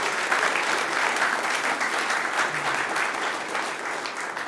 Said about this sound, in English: can I get a round of applause for Annie Harrison